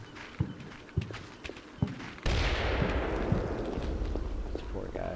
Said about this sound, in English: somebody just took fire. There's a German sniper in that building.